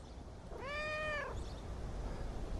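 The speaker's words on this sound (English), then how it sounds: "You need to go, kitty cat." A cat meows once, a clear drawn-out call close by, rising and falling over about a second, heard outdoors in a vineyard against a steady background.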